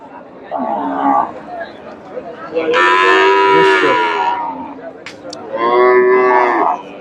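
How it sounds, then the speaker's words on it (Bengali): Friesian dairy cows and a bull calf at a busy cattle market low out in long, loud moos, one brief call followed by two drawn-out bellows, with faint crowd murmur beneath. "এটা গাভী, ফ্রিজিয়ান গাভী, এটা ষাঁড় বাচ্চা।"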